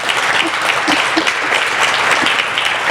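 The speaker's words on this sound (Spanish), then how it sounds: "Un aplauso al Señor en esta tarde" A church congregation gives a round of applause to the Lord at an afternoon service, the clapping dense and continuous, fairly loud and close, with a few brief voices or shouts poking through.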